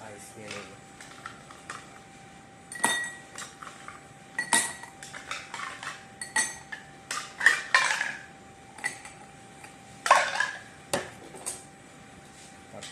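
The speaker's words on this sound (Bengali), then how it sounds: "সাথে প্রথমে আমি কিউব আইস নিয়ে নেব।" Ice cubes clink sharply against a glass while iced tea is prepared, a series of irregular bright clatters and taps up close, with a few louder bursts around the middle and later on.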